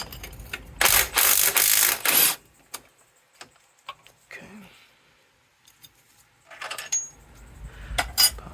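A ratchet socket wrench works loose bolts during engine removal on a 1999 Honda Civic Si, with two dense bursts of rapid metallic clicking separated by quieter tool handling and faint clinks, close up.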